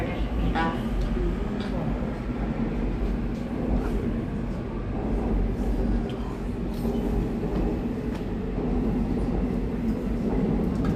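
A Seoul Metro Line 2 subway train running with a constant low rumble and rattle throughout, loud and steady, while an announcement for Sindorim terminal station speaks over it.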